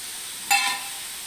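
Two spoonfuls of cumin seeds drop into hot oil and burst into a sudden bright sizzle that fades within about half a second, loud and close with no voices.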